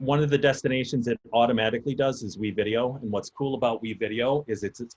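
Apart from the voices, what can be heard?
No everyday noise stands out behind the speech.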